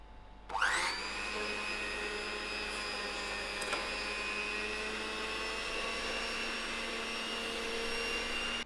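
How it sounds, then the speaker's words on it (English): An electric whisk runs steadily through muffin batter, a loud, close, continuous mechanical whir with a sharp start, holding an even tone for several seconds. "We're going to give it a final whisk to make sure that all our ingredients are combined together."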